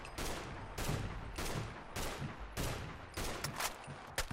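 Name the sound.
gunfire of .308 rounds in the video game Fallout 4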